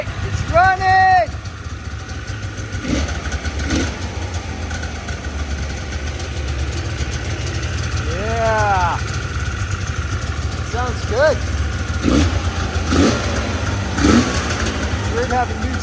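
A snowmobile engine idles steadily with a low rumble, rising in a few quick revs, while a person speaks briefly nearby.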